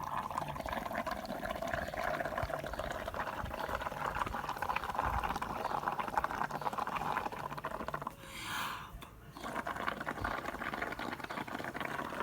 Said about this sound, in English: grab my trusty straw, and I'm going to try and blow bubbles.